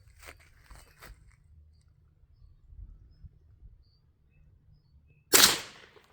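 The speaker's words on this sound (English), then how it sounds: "I'm just going to shoot straight through there at the bank up there" A rifle shot fired through a chronograph toward an earth bank outdoors cracks once, sudden and loud near the end, after a stretch of faint background noise and light clicks.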